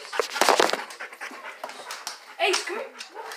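A dog pants rapidly and audibly up close, breathy bursts coming in quick irregular runs with a few small whimpers, while people talk intermittently around it.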